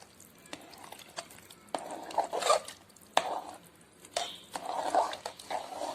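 A spoon stirring dissolved jaggery syrup into akkara adisal, a sweet rice dish, giving soft wet squelches and scrapes in an irregular rhythm, close and fairly quiet.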